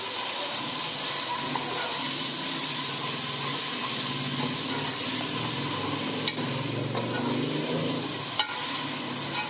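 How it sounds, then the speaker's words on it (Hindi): Finely chopped tomatoes fry in a pan with ginger garlic paste, giving a continuous moderate sizzle and hiss with a low background hum and a couple of small clicks. "अब इसके अंदर टमाटर डाल देंगे बारीक कटे हुए। अब भुनाई करेंगे हम इसकी।"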